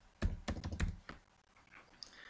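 A password is typed on a computer keyboard: a quick run of about five close key taps, then a few softer presses and a faint clack as the keystrokes trail off.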